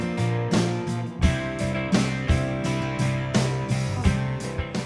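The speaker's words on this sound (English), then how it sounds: "That's the sound you're hearing in this demo, which features 3 driving British rock guitars, 2 electrics," Three driving British rock guitars, two electric and one acoustic, play over a steady even-sixteenths rock drum groove in a Band-in-a-Box demo, loud and dense with chugging rhythm and regular accents.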